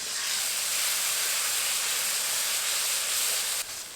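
Ground spice masala fries in a pan for a village-style magur fish curry with a splash of water added, producing a loud, steady, close hiss of sizzling steam that drops off sharply near the end; nobody speaks.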